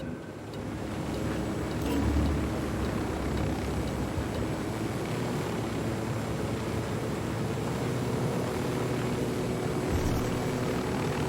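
Helicopter in the video game Ghost Recon Wildlands, a steady low rotor thrum and engine drone that holds close and loud throughout, with no talking.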